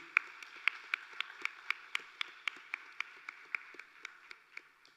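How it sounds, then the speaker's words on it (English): At the National Youth Awards 2022 ceremony, a faint, distant run of evenly spaced claps keeps a steady beat for several seconds, quiet and unaccompanied by talk. "give yourselves a round of applause for that"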